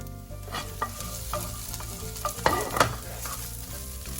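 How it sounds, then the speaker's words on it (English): Garlic, chili flakes and shredded broccoli stir-fry in olive oil, a loud close sizzle broken by sharp scraping and tossing strokes of the utensil, with no voices. "We're gonna add the garlic, a bit of chili flakes, we added the shredded broccoli"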